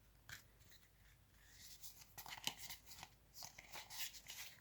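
Soft papery riffling and flicking of thin Illustrated Herbiary oracle cards being shuffled, a few quick bursts close by with brief pauses between them.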